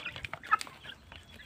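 Free-range village chickens cluck in short, close bursts while eating a homemade mixed feed, several quick clucks in a row followed by softer scattered calls, with no talking.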